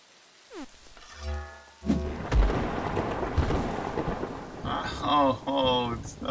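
Rain pours steadily in a thunderstorm in the video game Songbringer, with a loud thunder crack early on, a dense rolling rumble of rain, and some sharp electronic tones from the game near the end.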